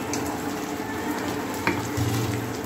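Beaten egg for an omelette fries in plenty of oil in a pan, a continuous close sizzle with a brief clink of a utensil partway through.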